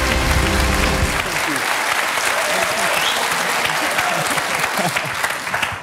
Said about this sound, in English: Laat je horen voor David Mitchell